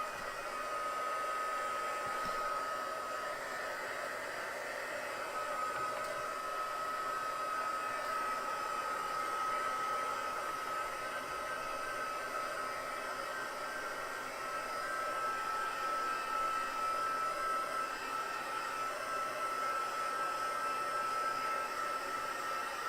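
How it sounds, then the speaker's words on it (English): A handheld heat tool blows hot air over a soaking-wet paper craft, producing a steady, close whooshing roar with a faint whine that runs unbroken and without speech. "I am gonna have to use my heat tool just to dry this"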